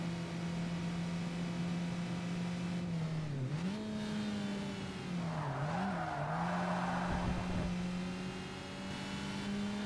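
A race car in the video game Forza Motorsport holds a steady engine drone at full throttle through a corner, pitch dipping briefly and wavering, with a short burst of tire squeal midway.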